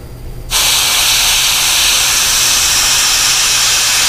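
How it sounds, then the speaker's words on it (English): Aerosol spray paint hisses steadily through a stencil onto a fishing bait lure, a loud continuous spray that starts abruptly after a quiet moment and runs without a break. "Always hit the edge of your stencil so that the overspray is what's coming off that bait."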